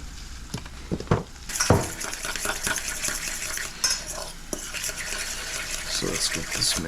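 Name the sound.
stirring egg and cheese mixture in a bowl for carbonara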